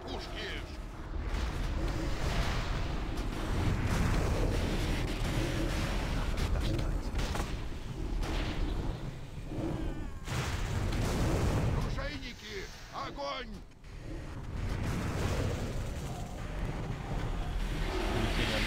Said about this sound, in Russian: Корабль под обстрелом